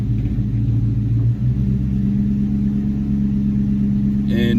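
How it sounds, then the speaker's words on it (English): A Ford Mustang GT V8 sits at a stoplight, its deep idle rumbling continuously and close, settling slightly lower partway through, with a brief brighter sound at the very end. "So I'm at a stoplight. The idle's gonna drop down a little bit lower."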